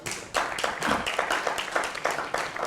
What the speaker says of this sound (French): on applaudit pour vous-même